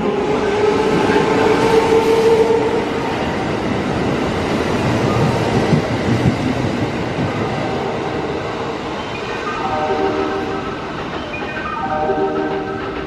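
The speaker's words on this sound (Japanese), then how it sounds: "1番乗り場を電車が通過します。" A Kintetsu 22000 and 22600 series limited express train rumbles through Momoyama-goryomae Station close by without stopping, wheels clattering and squealing faintly as it passes, the roar slowly fading toward the end.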